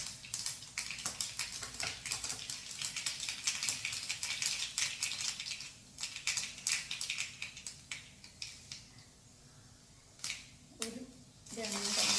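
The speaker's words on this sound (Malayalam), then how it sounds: "കടുക് പൊട്ടിക്കുക" Mustard seeds spluttering in hot coconut oil, a dense run of sharp crackles and pops close by, busiest early and thinning toward the end.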